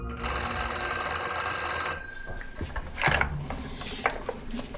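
An old telephone bell rings loudly and continuously for about two seconds, then stops, leaving softer clatter and handling noises nearby.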